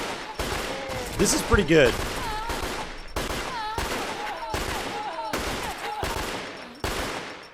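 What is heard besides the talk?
pistol gunfire in a video game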